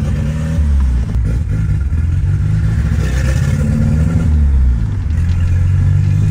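A turbocharged VW Gol accelerating inside the car, engine droning loudly with rising and falling pitch as it pulls through the gears, brief dips marking shifts.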